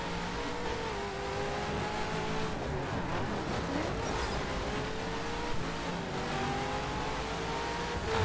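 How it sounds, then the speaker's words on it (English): A car races in the video game The Crew, its engine droning steadily and loudly throughout, with pitch rising and falling as it shifts and accelerates. No voice is heard. "I haven't driven this car in sports spec or performance spec."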